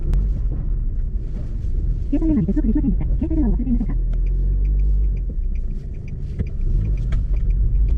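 Car engine running steadily while driving, a low continuous rumble throughout with a person talking over it in the middle of the stretch.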